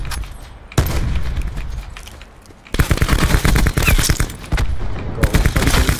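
Rapid automatic gunfire from Call of Duty: Black Ops 4 Blackout battle royale, loud and close, coming in dense bursts of repeated shots with a short lull between them, and no talking over it.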